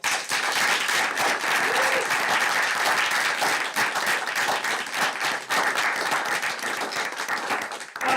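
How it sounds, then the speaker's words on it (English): Sustained applause from a crowd at a school district board meeting, dense steady clapping filling the whole stretch without pause. "Round of applause."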